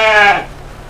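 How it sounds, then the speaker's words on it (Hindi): A sheep bleats once, loud and close, in a flock of about 35 sheep kept alongside a few goats, the call fading out quickly. "यहाँ पर 35 मूड आपको भेड़ दिखेंगे"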